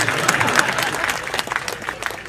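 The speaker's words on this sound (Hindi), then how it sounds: "ताली वाली बजाते रहिए।" An audience at a Hindi comedy poetry gathering claps steadily, a continuous burst of applause from a crowd, fairly close and sustained throughout.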